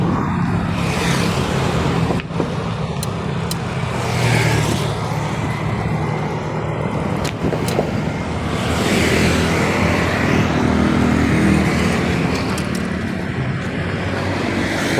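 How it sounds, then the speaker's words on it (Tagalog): Steady, loud road traffic flows near the NLEX-SLEX Connector construction site, where cars and motorcycles rumble past one after another, with a few sharp knocks breaking through the continuous engine roar. "Marami sa sasakyan."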